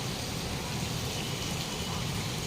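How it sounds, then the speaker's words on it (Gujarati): Heavy monsoon rain pours down in a Gujarati housing society, a thick, continuous roar of falling water with no breaks. "એટલો વરસાદ આવે."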